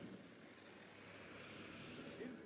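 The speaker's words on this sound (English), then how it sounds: "Reavers doing a flyby." Reavers flying by in the video game Gears Tactics, a continuous roaring, whooshing engine drone that swells slightly toward the end, with no talk over it.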